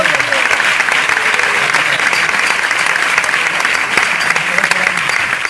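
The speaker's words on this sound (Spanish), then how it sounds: "Aplauda a Dios." Congregation at a Spanish-language evangelical church service applauding, steady dense clapping filling the whole stretch with a faint crowd murmur beneath.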